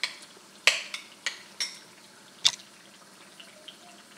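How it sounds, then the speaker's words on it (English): Spinach stew stirred gently in a pan, a few distinct spoon clinks and scrapes spaced irregularly over a quiet, soft bubbling background. "Let it sit for a minute or two, and I'm stirring it now."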